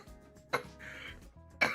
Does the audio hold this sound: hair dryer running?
no